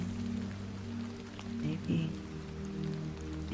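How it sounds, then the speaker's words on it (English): Soft, steady rain patters on a surface, quiet and continuous beneath a low constant hum in a calm ASMR potion-brewing setting, with no talk. "Maybe it's the sound of the rain"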